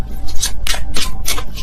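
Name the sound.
shuffling a deck of tarot cards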